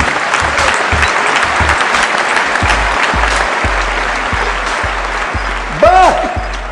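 An audience breaks into sustained, dense applause that carries on at a steady, loud level while a voice speaks over it.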